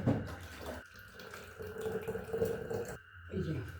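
Homemade tomato sauce is poured from a pan into a jar, giving a soft wet gurgling flow that starts and stops in a few separate pours beneath a low background hum, with a voice speaking.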